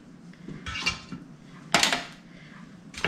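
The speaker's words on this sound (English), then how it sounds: "I'm gonna use the tongs, and I'm gonna take these bones" Beef bones are set into a metal kettle with tongs, giving a few sharp clanks and scrapes of metal against metal, close and alone.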